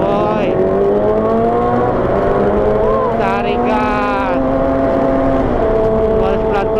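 Loud, continuous engine noise with rising and falling revs from a group of motorcycles nearby at a rest area in Lembang, with people talking over the roar.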